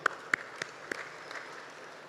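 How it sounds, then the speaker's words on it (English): A trade expo audience gives brief applause, a few sharp, distinct claps followed by a light, thinning patter that fades within about two seconds. "Give yourselves another round of applause."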